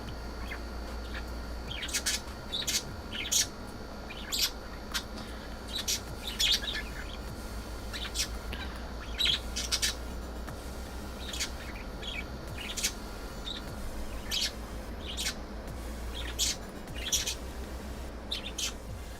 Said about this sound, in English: My birds are freaking cuties.